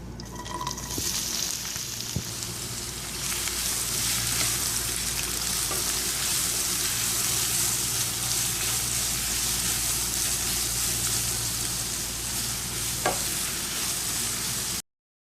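Sliced onions, curry leaves, green chili and ginger frying in hot coconut oil for mutton stew, a strong steady sizzle that runs on unbroken with a few faint utensil clicks, close and without talk.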